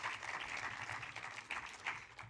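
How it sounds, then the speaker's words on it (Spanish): Applause from about fifty people at a talk on cinema, soft and distant, a thin steady patter of clapping with a few louder claps. "un fuerte aplauso para empezar con la sesión."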